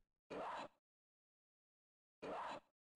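Cry of Bagon, the dragon Pokémon, played from the Pokémon Go app: two short, loud, identical cries, each about half a second long, separated by nearly two seconds of silence.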